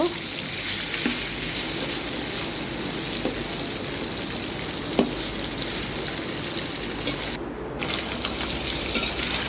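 Stinging catfish (shing fish) frying in a pan gives a loud, constant crackling sizzle close by, broken by a few faint knocks and a brief drop near the end, with no speech.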